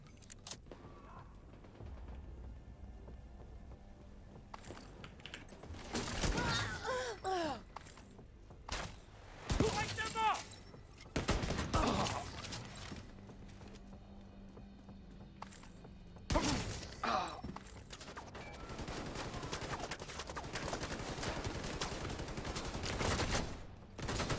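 Gunfire in Payday comes in several irregular bursts of clattering shots between quieter stretches of footsteps and movement, fairly faint overall.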